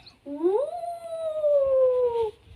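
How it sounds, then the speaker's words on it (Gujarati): A village dog howls once in a long, rising then slowly falling wail, close and clear, lasting about two seconds with no talk over it. "કોકનો કૂતરો હે"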